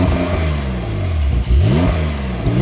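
A Porsche 911 Carrera 4S Coupé of the 992 generation, set to Sport Plus mode, revs loud and close, its engine note climbing through two quick surges.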